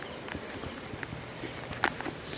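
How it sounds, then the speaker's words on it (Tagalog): Crickets chirp steadily at night in a quiet nature park beside a flowing river, a dense, continuous insect trill with a soft background wash and a few faint clicks, no voices. "maririnig mo lang ngayon ay ang kuliglig, yung agos ng ilog."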